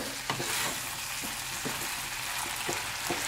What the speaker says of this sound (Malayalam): മിക്സ് ചെയ്യുമ്പോൾ ശ്രദ്ധിച്ച് മിക്സ് ചെയ്യുക, അല്ലാന്നുണ്ടെങ്കിൽ പനീർ പൊടിഞ്ഞു പോകാൻ സാധ്യതയുണ്ട്.